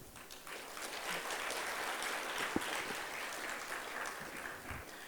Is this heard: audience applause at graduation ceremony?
yes